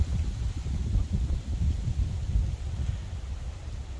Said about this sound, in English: As you can see, it's windy today.